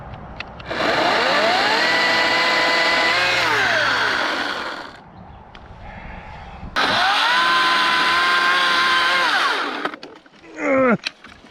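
A HART 40-volt 14-inch battery chainsaw cuts wood in two long, loud runs, its electric motor whine sagging in pitch under load and rising again as it frees, with a short final burst at the end.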